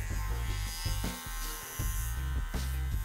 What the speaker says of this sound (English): Really only essential to shave two stripes either side